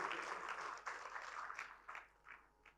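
Audience applause for a doctor at a medical awards premiere event, a faint, distant patter of clapping that thins out into a few scattered claps.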